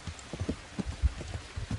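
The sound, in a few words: light rain downpour, video game Kingdom Come Deliverance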